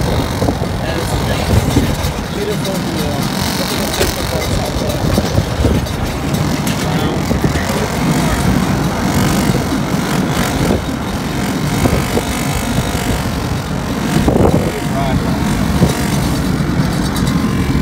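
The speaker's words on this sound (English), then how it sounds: "wind's still blowing, you know? It's like hot wind blowing around, a lot of dust." Hot, dusty wind blowing in from the Sahara Desert in The Gambia, a steady loud roar and buffeting across the microphone throughout, with voices talking over it.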